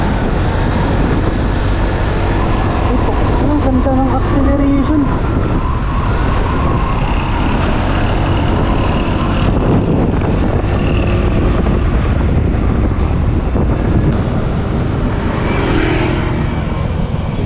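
A Vespa Primavera S 150 scooter riding at top speed, a steady loud roar of engine and rushing wind buffeting the microphone throughout, with no talk.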